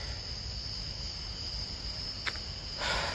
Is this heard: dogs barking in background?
no